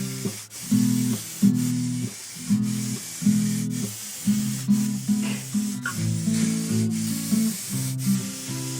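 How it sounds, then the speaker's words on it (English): Short hissing bursts from an aerosol spray can painting a guitar neck repeat in a steady rhythm, loud and close, with a low tonal hum between bursts. "I can spray paint the other side."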